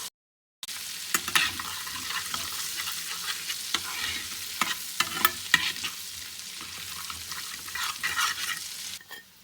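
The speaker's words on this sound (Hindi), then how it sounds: "अब इसके अंदर ये जो चॉप्ड लहसुन के 2 जुवे हैं ये डाल देंगे और इसको थोड़ा सा फ्राई करेंगे।" Chopped garlic sizzles in melted butter in a pan, a steady close crackling fry with occasional scraping stir strokes, loud and continuous after a brief silent start, with no talking.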